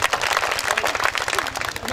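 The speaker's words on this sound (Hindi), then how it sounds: "फिर ताली बजाओ राजा बेटा के लिए।" An audience claps steadily throughout at an outdoor Hindi love-poetry recital, a dense, continuous patter of applause with some crowd noise mixed in.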